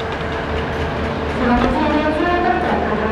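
Joglosemarkerto passenger train pulling into Kutoarjo station, heard from inside the carriage as a loud, steady rumble with faint wheel clatter, growing slightly heavier midway, with a voice speaking over it.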